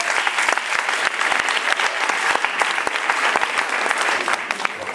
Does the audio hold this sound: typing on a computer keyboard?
no